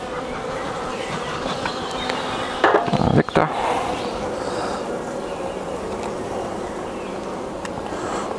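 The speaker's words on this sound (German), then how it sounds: "Trotz der Masse an Bienen," Honeybees buzz steadily around an open Dadant hive during an inspection, a continuous close insect drone with a short burst of handling noise and a brief spoken remark partway through.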